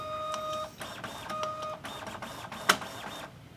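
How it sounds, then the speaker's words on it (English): TSC label printer printing and encoding metal RFID asset tags: close, rhythmic whirring and stepping motor bursts with tonal whines, repeating several times, plus one sharp click near the end. "when I hit Print, we'll watch the printer here"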